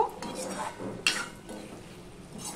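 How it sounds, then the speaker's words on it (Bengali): A spatula scrapes and knocks against a pan while fried pointed gourd is mixed in, a few soft clinks with one sharp metallic hit, quiet and close. "দিয়ে সম্পূর্ণটা মিশিয়ে নিয়ে কষিয়ে নেব"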